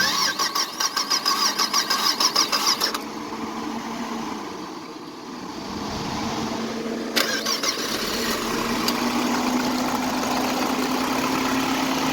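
An oil-burning car engine with blue smoke cranks briefly, catches and settles into a steady, even idle that hums on without a break for several seconds.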